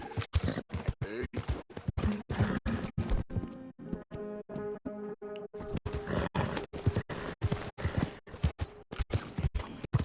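A horse in the video game Red Dead Redemption II moves with rapid, rhythmic hoofbeats, loud and close. The hooves pause briefly midway under a low, tonal rumbling sound. No neigh is clearly heard.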